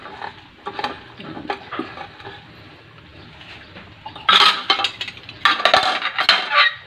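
Soup of papaya and chicken stirred in a pot, a ladle scraping and clinking against the pot sides in irregular strokes, quiet at first and then louder bursts of metallic scraping near the end.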